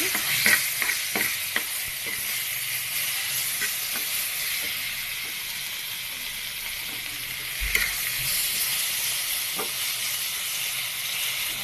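Papaya pieces frying with browned onions in a pan, stirred with a spatula: a steady loud sizzle and hiss with occasional scraping clicks of stirring throughout.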